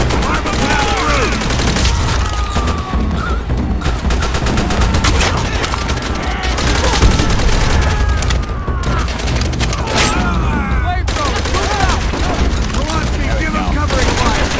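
Dense, continuous gunfire and explosions in a late-night video game battle, rapid bursts layered with booms under shouted voices calling orders throughout.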